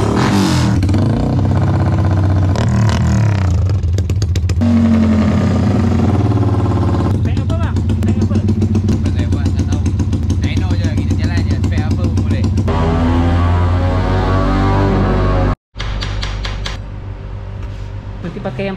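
A Honda EX5 motorcycle fitted with a big-bore block revs on a dyno, its engine note rising and falling loudly and close for a long run with a brief cut near the end, while a mechanical clatter runs underneath.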